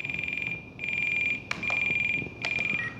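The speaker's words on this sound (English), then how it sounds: "that's an annoying alarm" A shrill, high electronic beeping from the telemetry alarm of a Horizon Hobby radio transmitter set up for a P-51D UMX model plane, sounding in rapid pulsed bursts and longer steady tones, close and loud, with a couple of sharp clicks.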